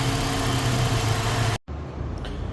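Electric radiator fans run on a Datsun Fairlady roadster with an EFI conversion, giving a steady whooshing hum with the engine idling beneath, briefly cut off near the end before resuming more quietly.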